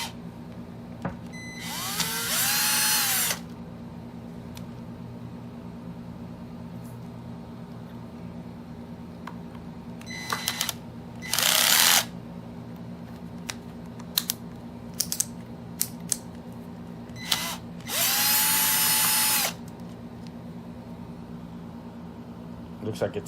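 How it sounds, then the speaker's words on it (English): An electric drill driving Phillips screws on a Swagtron SwagCycle EB-5 electric bike whirs in three short bursts, separated by clicks, handling noises and a steady background hum. "So I'm using my electric drill."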